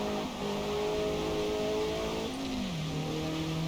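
Race car engine revving through practice laps in a racing video game, a loud continuous drone whose pitch climbs, holds, then drops through gear changes, heard close and alone.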